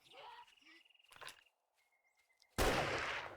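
A single loud pipe rifle shot in 7 Days to Die bursts out abruptly near the end and decays into a rough crackling tail, following faint clicks and small game noises.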